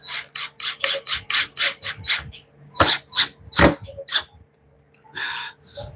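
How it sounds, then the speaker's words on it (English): A countersink bit rasps briefly into a screw hole in cedar wood at a construction job, a quick series of sharp, near scraping bursts with short pauses between them. "Just gonna barely countersink that because it's gonna want to split"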